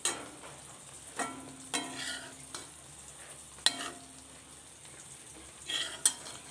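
Moringa leaves are roasted in a pan for chutney powder: a spatula scrapes and stirs in scattered strokes over a light, steady sizzle, close up and fairly quiet, with no voices.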